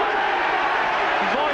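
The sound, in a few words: rugby crowd cheering at Neath v All Blacks match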